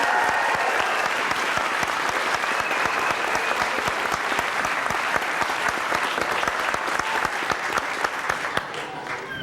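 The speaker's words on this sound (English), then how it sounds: "Please give her another round of applause." An audience applauds continuously for a performer at a show, a dense, steady wash of clapping from many hands that holds loud and even, then thins slightly at the end.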